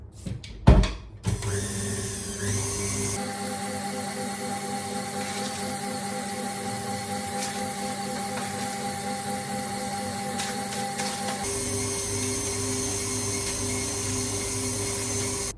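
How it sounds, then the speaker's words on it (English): An electric mixer whisking meringue at high speed, a steady, loud, whirring motor drone that runs for most of the time after a few opening knocks, shifting pitch slightly at the end. "we're going to continue to whisk this on a high speed"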